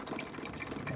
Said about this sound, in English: As you can see, steady stream coming out of the machine.